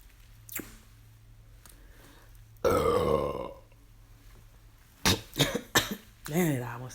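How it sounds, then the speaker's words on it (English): A person burping: one long, loud, rumbling belch in the middle, followed by a quick run of shorter throaty bursts and a final drawn-out burp, with quiet gaps in between. "when you do catch me burping in front of somebody"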